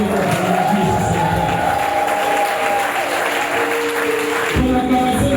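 A congregation at a closed Christian spiritual retreat cheers and applauds loudly in praise, a dense continuous crowd roar with voices shouting and clapping throughout, swelling again near the end.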